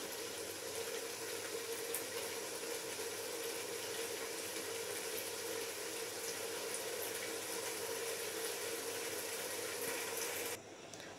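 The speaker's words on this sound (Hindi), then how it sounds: "तो यहाँ मैंने पानी डाल दिया।" Water pours steadily into a cooking pot for chana pulao, a continuous close hissing rush that runs for most of the time and then stops abruptly near the end.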